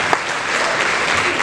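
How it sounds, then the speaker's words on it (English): An audience at a civil rights gathering breaks into a big round of applause, dense and loud, sustained evenly throughout with no speech over it. "Vanita Gupta, and Janice Mathis, give them a big round of applause."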